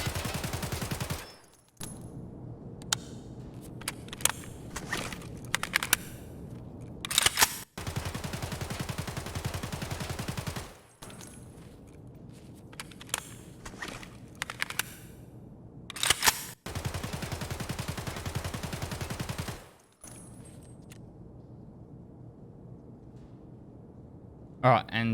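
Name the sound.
rapid gunfire from video game Escape from Tarkov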